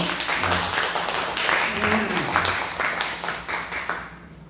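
A church congregation at a Sunday service claps together, dense, fairly loud applause that starts at once and fades away toward the end, with a voice talking over part of it.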